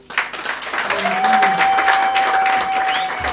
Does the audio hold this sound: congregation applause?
yes